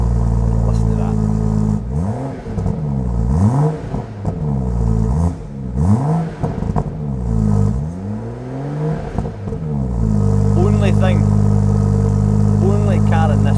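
A stock BMW M140i engine revs hard several times in rising and falling sweeps, loud and close, with a steady idle between bursts and a few spoken words over it.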